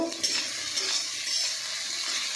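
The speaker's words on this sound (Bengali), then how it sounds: "তো আদা রসুন দিয়ে দিলাম, পেঁয়াজ দিয়ে দিলাম, এটাকে ভালো করে ভেজে নেব।" Ginger, garlic and onion fry in a pan with a bright, continuous sizzle. Light scraping of a stirring spoon and faint clinks of metal on the pan run throughout, and no one speaks.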